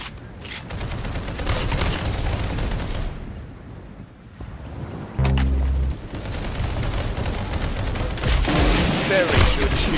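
Gunfire in the Roblox game Arsenal: rapid volleys of shots over a dense, busy game mix, with a brief louder low burst in the middle.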